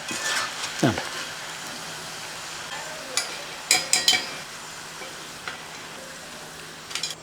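Bitter gourd frying and being stirred in a pan: a constant soft sizzle of oil, broken by several sharp scrapes and clinks of a spoon against the pan, close up, with a voice talking now and then.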